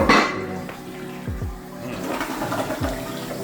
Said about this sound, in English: you see the toilet flushing